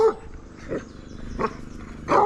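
A guard dog at a building near Fritton round tower church gives a few separate deep, rough barks, loud and close, each one short with gaps of roughly half a second between them.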